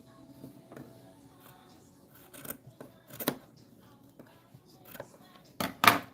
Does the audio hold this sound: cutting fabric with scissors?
yes